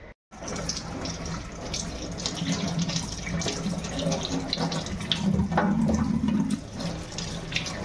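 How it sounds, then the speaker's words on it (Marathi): Curry leaves and aloe vera washed under a running tap: a continuous steady gush of water splashing into a sink, moderately loud, with small variations as the leaves are handled. "हे पहिलं मी दोन्ही पण धुवून घेते एकदम चांगलं"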